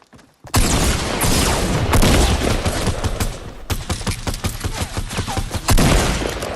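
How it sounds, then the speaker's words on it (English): Loud, close shotgun blasts from a first-person shooter video game, fired in a quick series of heavy booming shots with little pause between them. "got the other shotgun"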